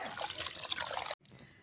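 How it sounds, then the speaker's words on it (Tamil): Water poured over cut bottle gourd pieces being rinsed in a kitchen, a steady close splashing and trickling that stops abruptly near the end. "இது மாதிரி தண்ணி ஊற்றி நல்லா அலசிக்கிறேன்"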